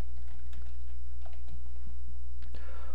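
Quick, uneven keystrokes clatter on a computer keyboard as a short phrase is typed into a Moodle settings field, close and clear over a steady low electrical hum, with no talk.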